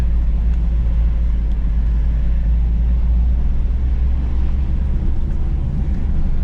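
A 1.9 diesel Suzuki Vitara 4x4 climbs a steep off-road slope, its engine a loud, deep, steady drone with heavy low rumble and some wind buffeting on the microphone.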